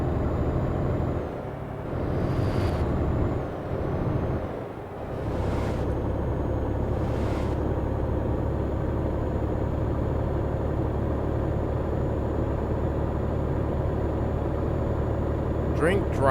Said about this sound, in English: I'm pretty sure they're muscle cars. I mean, they sound awesome.